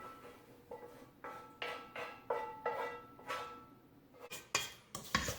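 A spoon scrapes and clanks against a pan as wilted spinach is stirred together with browned sausage for a calzone filling, giving a series of distinct, close metallic knocks about every half second.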